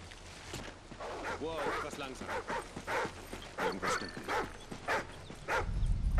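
German shepherd barking in the Call of Duty Ghosts video game, a run of sharp repeated barks under game sounds, with a voice speaking over parts of it.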